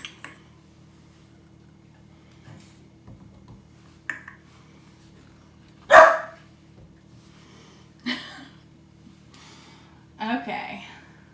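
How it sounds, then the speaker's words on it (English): A dog barks several times at irregular intervals in a home kitchen, each bark short and moderately loud against a quiet background, with speech present in the clip. "there's Frankie, the Girl Scout dog."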